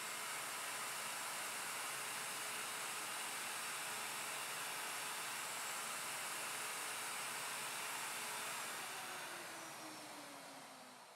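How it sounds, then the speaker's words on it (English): Router climb-cutting a wood tenon in a Leigh FMT Pro jig: a steady high-pitched motor whine and hiss, loud and close, that holds level and then spins down toward the end. "start by climb routing clockwise, and finish up the tenon by routing counterclockwise"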